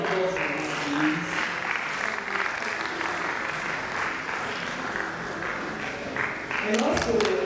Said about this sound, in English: Please sustain the applause for us